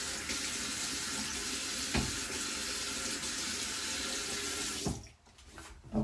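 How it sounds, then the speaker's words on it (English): Tap water runs steadily into a bathroom sink while a face is wetted before shaving with a shave stick, a loud continuous splashing that cuts off sharply near the end, leaving quiet drips. "So let me wet my face again."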